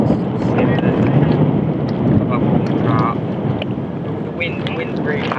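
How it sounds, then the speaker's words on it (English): Strong wind blows across an open fishing venue, producing constant buffeting rush and microphone rumble throughout, with faint voices partly masked underneath. "The wind's really hacking in, so there's some breeze at the end of it."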